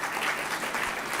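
An audience applauds a special guest, a High Court judge, at a law school convocation ceremony, with dense, loud clapping filling the hall throughout.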